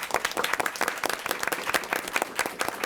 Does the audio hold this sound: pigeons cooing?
no